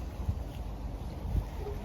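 Wind buffets the microphone outdoors in a garden, a soft low rumble with a couple of quick gusty thumps across the short stretch and no talking.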